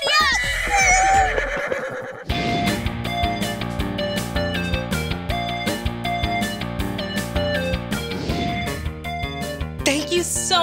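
A horse gives a loud, close whinny that rises and trembles, followed by bright cartoon-style music as it sets off; no one speaks.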